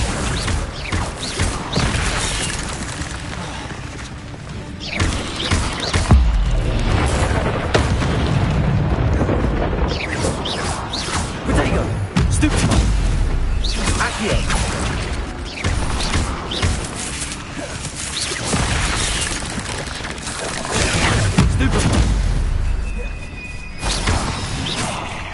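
Fire spells cast over and over in the video game Hogwarts Legacy, making loud, dense whooshes, booms and crackling blasts that go on nearly without pause.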